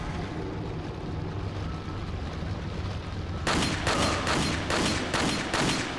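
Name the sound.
gunfire in video game Resident Evil 4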